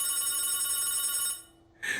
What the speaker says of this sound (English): let it ring, let it go on ringing